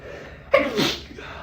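A single sharp sneeze, close and loud, preceded by a short intake of breath, with a quiet room tone before and after.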